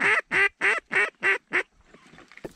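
Ducks quack during a duck and goose hunt, six loud, evenly spaced nasal quacks close by, then a short stretch of faint outdoor noise with a couple of distant calls.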